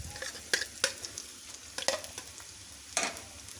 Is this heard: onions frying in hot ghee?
yes